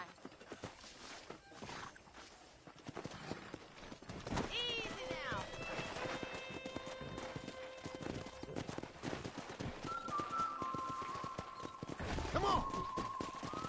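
Wild horses in the Western video game Red Dead Redemption clop across the ground with steady hooves, and one loudly neighs and whinnies midway, while someone speaks a few short calls over the animals.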